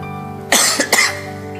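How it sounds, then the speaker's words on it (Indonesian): A single person coughs twice in quick succession, a sharp close burst followed by a shorter second hack, then quiet room tone. "Penyakitnya batuk."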